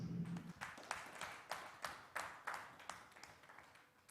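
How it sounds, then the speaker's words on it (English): Applause at a company's annual general meeting, Food Concepts PLC, a sparse, quiet round of individual claps with distinct, uneven hand strikes rather than a dense ovation, heard from a distance in a large room. "Can we please give them some applause?"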